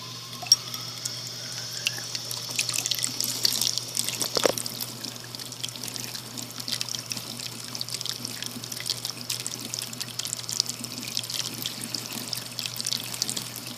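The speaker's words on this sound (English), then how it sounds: "this is a demonstration of what happens when we turn on the cold water in the house" Cold water runs steadily from a household sink tap, a soft continuous hiss and splash with a brief louder gurgle early on, otherwise even and close.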